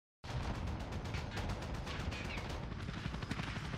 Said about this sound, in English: somebody's got a chopper gunner up.